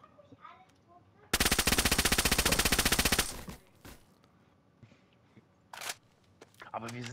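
A loud, rapid burst of automatic gunfire in the video game DayZ rattles for about two seconds, followed by a few fainter distant shots amid quieter background sounds.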